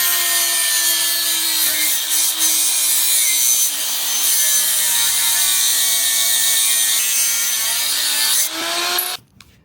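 A power tool trims and shaves down a lip on the front area of a car, grinding loudly and steadily at close range for several seconds before cutting off abruptly near the end.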